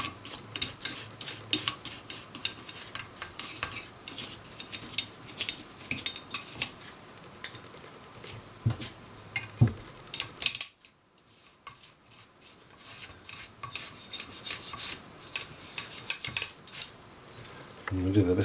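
Dry scraping of an old toothbrush on a 1950s Record No. 4 hand plane, working dirt out with rapid gritty strokes close by, a short pause midway, then continued scrubbing.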